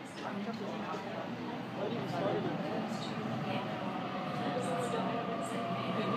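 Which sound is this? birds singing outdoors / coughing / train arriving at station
train arriving at station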